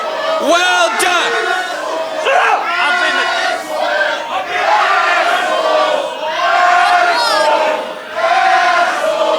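A large event crowd cheers, whoops and shouts continuously at a loud, close level, with rising and falling waves of yelling throughout.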